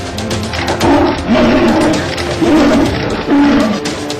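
A man-eating tiger roams loose near farm fields around a village by Ranthambore National Park in Rajasthan, roaring in long, loud, rumbling growls that rise and fall in several swells over a continuous low noisy background.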